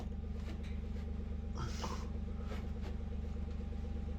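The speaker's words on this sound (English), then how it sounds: "Just my truck running." Truck engine idling steadily at close range at a shipping-container build site, a continuous low rumble with a regular pulse and a brief higher-pitched rise partway through.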